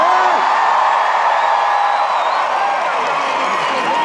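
A large arena crowd at a concert in Berlin on a 2017 tour roars continuously, a dense wash of cheering and shouting with a voice carrying over it.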